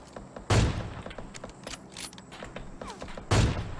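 Gunfire in a multiplayer shooter video game, coming from above: two loud bursts of shots, one near the start and one near the end, with scattered smaller shots and clicking mechanism noises between them.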